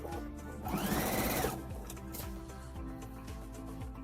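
A sewing machine stitching fabric strips onto a spiderweb quilt block, starting at a corner over a scrap strip, giving a close, steady fast whirring hum with a brief louder burst early on.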